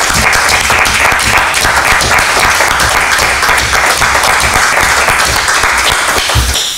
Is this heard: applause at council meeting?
yes